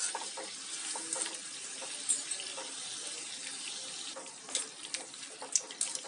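Layered namakpare made for Holi fry in oil over a low flame, giving a steady close bubbling hiss with scattered small pops and crackles and no voices.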